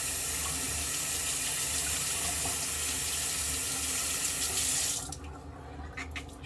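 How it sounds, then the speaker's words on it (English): A running tap pours steadily over a synthetic shaving brush being rinsed in a sink, a loud continuous hiss of water that cuts off near the end, leaving faint drips and clinks. "I'll rinse the brush off."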